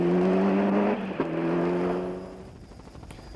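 A Ford Escort Cosworth rally car drives past at speed, its engine note holding steady, dipping briefly with a gear change, then rising again and fading as it pulls away.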